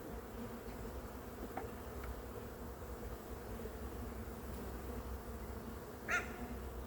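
Honey bees drone steadily inside a hive, a dense continuous buzz holding close and even throughout, with a single brief sharper sound near the end.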